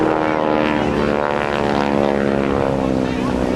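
GEICO Skytypers propeller aircraft flying in formation at the Jones Beach airshow, a loud droning buzz of multiple engines with dense harmonic hum, continuous for a few seconds under an announcer's voice.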